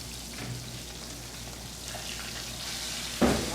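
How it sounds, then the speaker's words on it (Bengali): Carp and small fish frying crisp in oil, a soft, steady sizzling hiss with a single loud utensil knock near the end and no speech. "একটু কড়া করে ভাজতেছি"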